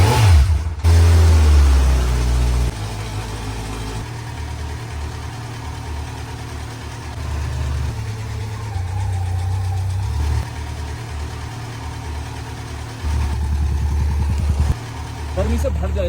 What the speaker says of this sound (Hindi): फिलहाल चल रहा है बस इंजन, थोड़ा हीट अप होने देते हैं